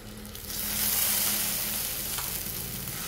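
Sweet potato slices frying in a pan for a fasting recipe, a continuous, even hiss of sizzling oil, close and steady throughout, with faint handling noise.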